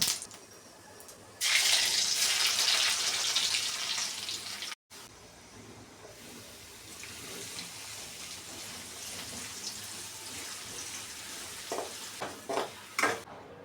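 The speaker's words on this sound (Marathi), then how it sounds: "मी इथे भाजी बनवतच होती, म्हणजे भाजीला फोडणी देत होती" Loud burst of sizzling as vegetables hit hot tempering oil, settling into a quieter steady fry with scraping and a few clatters near the end.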